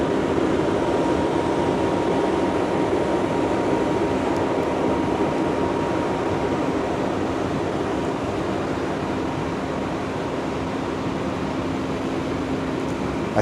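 Aboard a long Amtrak passenger train, a continuous loud rumble of the carriage rolling on rails holds steady throughout, with a faint whine over the broad noise and no voices.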